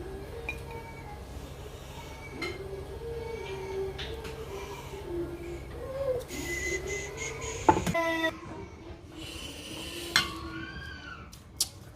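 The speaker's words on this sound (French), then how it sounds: "On va écraser tomate, ail, oignon et poireaux, céleri." Tomato, garlic, onion, leek and celery being crushed for a pistachio gumbo sauce, with scattered knocks, scrapes and clinks of kitchen utensils, including a couple of louder bangs near the end.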